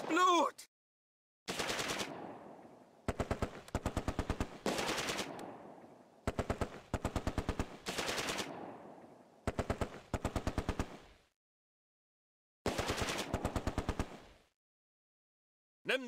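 Close Combat: A Bridge Too Far battle gunfire during an assault on Arnhem West, with loud bursts of rapid machine-gun fire arriving in repeated volleys separated by short pauses, alone with no talk.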